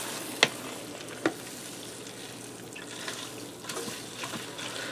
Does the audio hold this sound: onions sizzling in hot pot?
yes